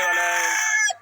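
Desi chickens at a poultry seller make a single loud, close crow-like call lasting about a second, cutting off sharply at the end.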